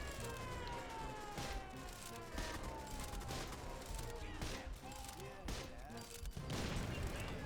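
Rapid machine-gun bursts in the WWII shooter RAID: WWII, a dense, continuous barrage of gunfire mixed with game noise and a wailing siren-like tone, while a player talks over it.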